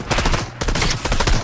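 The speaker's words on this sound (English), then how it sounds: "I just shot the NPC" Rapid gunfire in the Fortnite video game, loud dense bursts of shots in quick succession that fill the clip without pause, with no talking.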